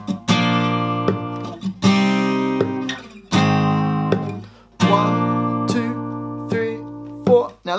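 Acoustic guitar strummed through the bridge of a song, loud ringing chord strums in four or five bursts, each left to sustain and fade before the next, with no talking.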